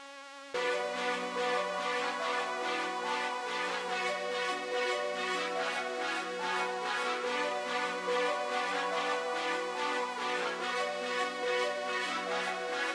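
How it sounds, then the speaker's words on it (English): Sawtooth synth pattern pitched an octave lower, built in FL Studio for a hard glo-style beat, plays as a sustained, bright, buzzy rhythmic line with pulsing repeated notes, loud and steady throughout with no voices. "the final sound we got is that same saw, but it's a different pattern and it's an octave lower"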